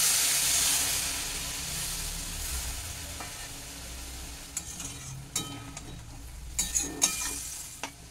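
Water poured into a pan of frying prawns, a loud hissing rush at first that settles into steady sizzling, followed by several sharp scraping stirs.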